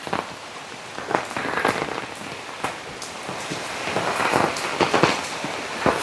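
Steady rain falls during Kerala's rainy season amid flooding, a continuous hiss with scattered louder drops and splashes spread across the whole stretch, close and moderately loud with no voices.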